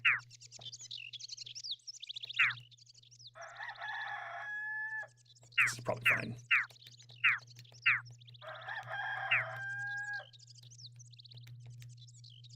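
Rooster crowing from the video game Dark Cloud rings out twice among chirping bird calls and short plucked game sounds, over a constant low hum, while someone briefly talks.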